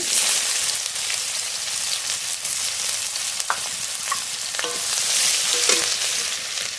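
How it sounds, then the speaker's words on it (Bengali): Black cumin and chopped onion tempering in hot oil for prawn malai curry, a loud steady close sizzle with intermittent light stirring taps and crackles, no talk. "চিংড়ি মাছের মালাইকারির জন্য ফোড়ন করে নেব। ফোড়নে কালো জিরে, পেঁয়াজ কুচি,"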